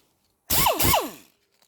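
A handheld power tool spins a Roloc abrasive pad against bare metal, cleaning up around weld repairs on a Toyota Hilux Surf sill: two close, loud whirring bursts of about half a second each, back to back, then a short fade.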